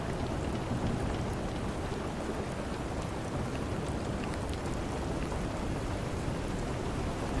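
Steady, dense rain patter on a boat deck on the Southern Ocean, continuous and fairly soft, with no voices or other distinct sounds.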